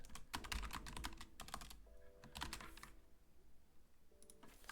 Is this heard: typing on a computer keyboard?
yes